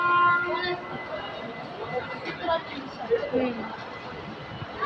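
A train stands at a station platform amid a busy murmur of crowd noise, with a few faint horn-like tones early on and scattered clanks in the background.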